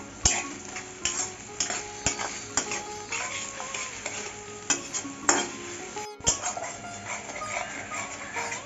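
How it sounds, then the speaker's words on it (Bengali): Onion frying in a pan while being stirred, with repeated sharp scrapes and clinks of a spoon against the pan at an irregular rhythm over a faint sizzle, close and moderately loud with no talk. "নাড়িয়ে চেড়ে পেঁয়াজটাকে ভালো করে ভেজে নেব।"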